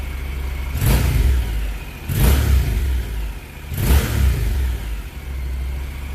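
A Honda CTX700 motorcycle with its factory exhaust idles, then revs up sharply three times in evenly spaced bursts, each roar rising and falling back to a low rumble.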